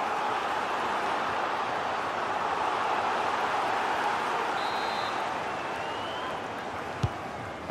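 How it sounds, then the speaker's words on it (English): Steady, loud crowd roar fills a football stadium in the FIFA 21 video game, holding an even level throughout with a brief sharp knock near the end. "The crowd sense a goal."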